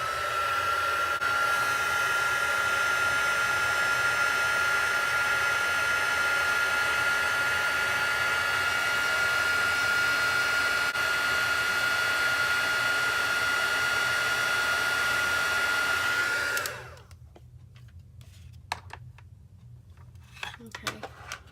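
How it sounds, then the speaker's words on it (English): An embossing heat tool blows a loud, steady whirring roar with a thin high whine for about sixteen seconds while heat-embossing a papercraft Easter cracker, then cuts off into quiet handling sounds. "now I'm going to just heat up my tool, my heat tool, and get this heat embossed"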